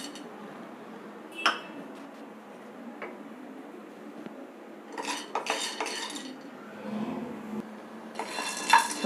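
Grains being dry roasted in a pan while a spoon stirs them, giving scraping and clinking metal contacts that come in bursts over quiet stretches, with no talk.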